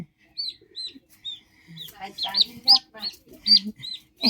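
A chicken clucks and chirps in a run of short, sharp calls, sparse at first and then quicker and denser, close by in a quiet outdoor setting.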